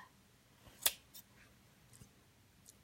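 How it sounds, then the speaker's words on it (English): A single crisp scissor snip near 0.9 seconds as scissors cut through ribbon loops, followed by a few fainter clicks and snips in an otherwise quiet room. "I'm just going to bring my scissors through here and just cut all my loops."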